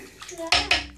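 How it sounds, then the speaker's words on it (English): Wort at roughly 140 degrees sloshed back and forth in a carboy fermenter on a home brewing day: two quick, splashy surges of liquid, close and loud. "All I'm doing is sloshing it back and forth."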